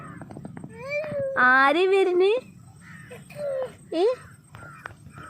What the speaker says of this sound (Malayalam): ആ കാക്കകൾ പോണോക്ക്.